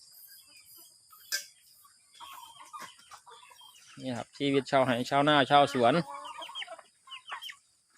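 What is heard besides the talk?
chickens clucking on an integrated farm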